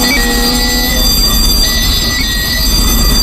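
A ChME3 shunting locomotive rolls past pulling a wagon, its loud low rumble nearby joined by sustained high metallic wheel squeals throughout, with no voices.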